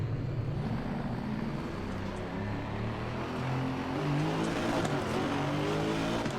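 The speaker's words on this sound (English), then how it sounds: "Oh, there's a nice rasp to that." A GT4 race car in Assetto Corsa Competizione gives a steady, raspy engine drone at moderate level, its pitch rising slightly midway, with no talking.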